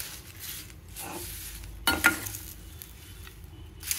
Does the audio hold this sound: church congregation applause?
no